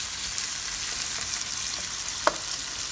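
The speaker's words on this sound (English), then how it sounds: "so here are the onions. We're sauteing them." Onions sauté in a pan, a constant close hiss of frying with faint stirring scrapes and one sharper clink near the end, heard alone without talk.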